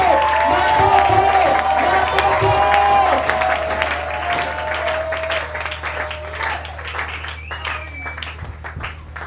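A church congregation claps and cheers loudly at first, the applause gradually thinning out while a voice speaks and music-like tones continue underneath.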